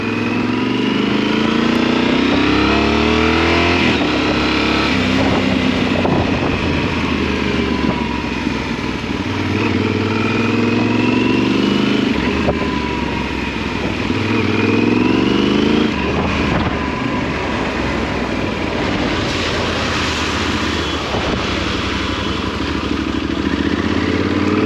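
A motorcycle engine runs loud and close for the whole stretch, revving up and down through repeated gear changes as the bike pulls away and rides along a road near Bordeaux, with steady wind and engine roar and no talking.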